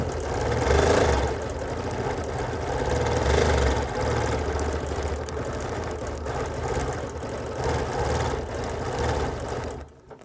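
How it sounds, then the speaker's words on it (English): A sewing machine quilting through the layers of a quilt runs in a continuous, steady mechanical hum with a fine rapid stitching rhythm, fairly loud and close, before it stops abruptly at the end. "Now I can bring this to the machine and quilt it."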